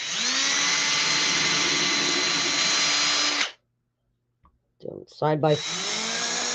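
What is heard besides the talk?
drill boring holes in a craft piece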